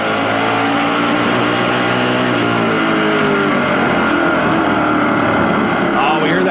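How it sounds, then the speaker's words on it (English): A spec-motor stock car roars during a 2009 NASCAR Canadian Tire Series race, a loud, steady engine drone with cars running side by side and a slight rise in pitch near the end. "That spec motor at work underneath there"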